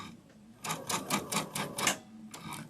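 A sewing machine stitches a sunflower wall hanging in short rapid bursts, a quick close clatter of needle strokes that stops after about a second and a half and then starts again briefly.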